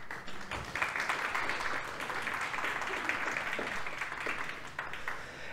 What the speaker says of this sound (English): let's give the CCO team a round of applause too